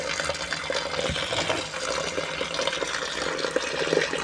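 Water pours steadily into a pot for vegetable soup with orzo, giving a continuous, close splashing and gurgling fill that lasts a few seconds with no talk.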